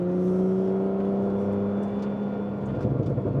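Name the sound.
Porsche 991.2 Carrera 700 HP turbo engine accelerating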